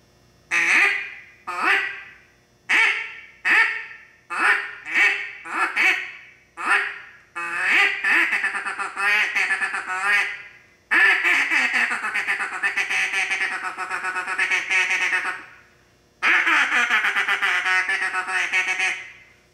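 A duck call blown in a series of short quacks, then longer drawn-out raspy calls, loud and close with brief pauses between bursts.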